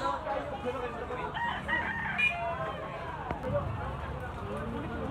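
A gamecock stag with yellow legs crows nearby at a rooster sale in Carbon, Cebu, one drawn-out call rising over a busy background of other fowl and people talking.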